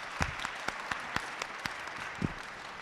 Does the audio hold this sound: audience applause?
yes